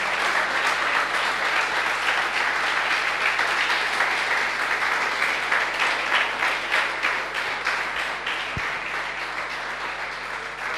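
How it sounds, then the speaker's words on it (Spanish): Church congregation applauds loudly during a worship service, a sustained, even roar of many clapping hands lasting throughout with little variation. "Levante ese aplauso bien fuerte al Señor."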